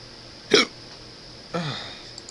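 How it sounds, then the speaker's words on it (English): Two sharp, close hiccups about a second apart, each a brief voiced catch in the throat over a quiet background. "I can't play with these hiccups."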